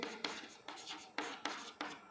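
Pen scratching across paper while writing a formal letter by hand, a run of six short, close strokes in a steady, uneven rhythm, faint and quiet with no talking.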